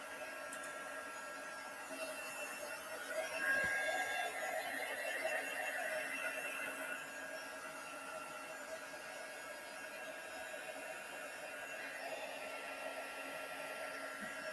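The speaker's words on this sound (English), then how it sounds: "you can move the ink around with your heat tool" Embossing heat tool blowing over wet ink on a stamping craft card, a steady whooshing fan hum with a high whine that swells slightly early on, then holds evenly throughout, close and alone.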